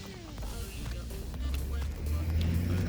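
Garbage truck collecting trash outside on trash day: a low, steady engine rumble and drone in the distance, growing slightly louder near the end, with faint clanks and speech over it.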